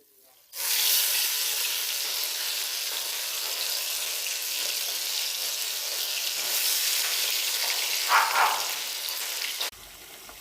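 Desi magur catfish pieces coated in ground spice paste frying in a preheated pan, a loud, steady sizzle starting abruptly and holding for several seconds with a brief sputtering flare near the end before cutting off.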